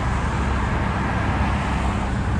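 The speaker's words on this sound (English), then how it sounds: "I think it's an Audi, or is it an Acura again? That one's an Audi" An Audi car passes by on a road amid steady, loud traffic rumble, its broadband roar holding level for a couple of seconds without a clear rise or fall.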